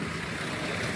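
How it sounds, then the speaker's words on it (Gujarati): Wind blowing outdoors during a storm with no rain, a steady loud rushing roar with broad gusty noise throughout and no voices. "થોડો ધીમે ધીમે જો કેવો હવા આવે, ખાલી જો પવનના."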